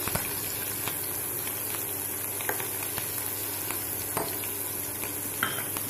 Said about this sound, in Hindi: तेल में मैंने राई डाला है। राई अब भून रहे हैं।